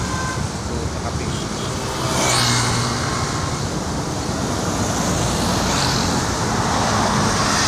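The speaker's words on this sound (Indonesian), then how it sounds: "Jadi macet karena banyak yang mengantri solar, mobil bus, truk." Congested road traffic as buses and trucks queue for diesel at a fuel station in Sumatera, a continuous rumble of idling and passing engines with a louder vehicle swelling by midway.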